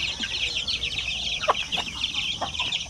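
Basilan, Zampen and Shamo Aseel chickens and their chicks cluck in a busy flock, with constant high peeping from the chicks and occasional deeper clucks from adult birds close by.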